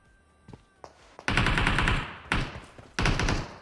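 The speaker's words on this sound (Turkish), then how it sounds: "Oo, AK ile birisi vurdu." AK rifle gunfire in PUBG Mobile: after a few faint shots, three loud bursts of automatic fire hit in close succession, each cutting off sharply.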